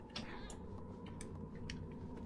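A cat meows in the video game Little Nightmares 2, a short cry heard over a steady, dense game ambience.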